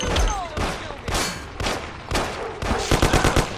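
A shootout in the video game Mafia sends out rapid gunshots in irregular bursts, ending in a quick string of evenly spaced shots. A few shouted game voices come through between the shots.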